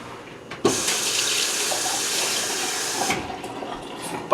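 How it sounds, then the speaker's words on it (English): Water gushes steadily from a tap onto dry oats for a few seconds, starting with a sudden splash and then cutting off abruptly. "I just pour some water in dry like that"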